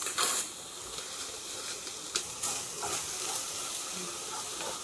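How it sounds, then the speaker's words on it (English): Minced meat and peppers fry in a pan with a steady sizzling hiss, broken by a few louder scraping stirs, fairly quiet and with no speech. "go in with your mince, and you want to break that up really well"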